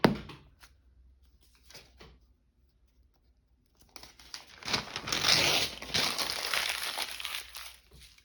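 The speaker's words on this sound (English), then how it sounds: "I don't need to crumple it, but it makes me feel good." Paper crumpled by hand during junk journal crafting, a few soft crinkles early on, then a louder, sustained scrunching and crackling that lasts several seconds close to the listener.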